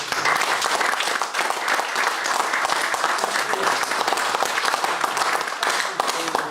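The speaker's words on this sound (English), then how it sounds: "I think it's a round of applause" Warm audience applause at a cricket club awards ceremony, many hands clapping in a continuous, fairly loud patter that holds steady for several seconds without talk.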